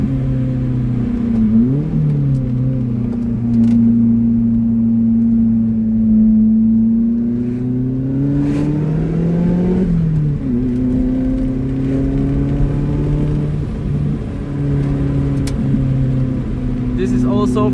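Lotus Elise sports car on a tight, winding mountain road, its engine droning steadily with pitch rising and falling through revs and gear changes, close and loud throughout, with a voice whooping and talking over it.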